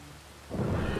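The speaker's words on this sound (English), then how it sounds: "Was there a really close lightning strike?" Thunder from a close lightning strike in the Western roleplay game RedM erupts after a quiet half second into a loud, broad rumble over rain that continues to the end.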